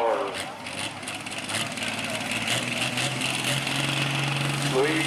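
A 2,300-horsepower pulling tractor engine roars steadily and builds in pitch at a tractor pull in Elk River, Minnesota, with a loud announcer talking over it throughout.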